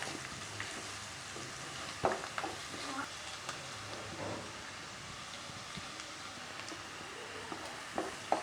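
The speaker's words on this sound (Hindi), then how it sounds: "प्याज हल्का लाल हो चुका है।" Finely chopped onion frying in a pan for aloo paratha, a steady close sizzle broken by occasional scrapes and clinks of stirring, with no talking.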